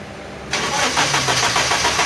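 A hot Suzuki Liana engine cranks on and on without catching, the starter whirring in a steady rapid pulsing churn, loud and close after a brief quiet lead-in.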